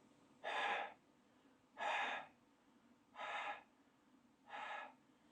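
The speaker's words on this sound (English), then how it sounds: "The last part really is checking for any air leaks. And to do that, you'll exhale and" Four separate, evenly spaced exhalations into a sealed face mask during a leak check, each a short breathy puff with quiet pauses between them.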